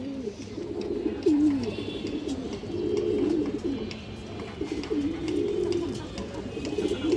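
Several domestic pigeons, including a red-geared one, coo in low, rolling, repeated calls that overlap continuously, with a faint room hum behind them.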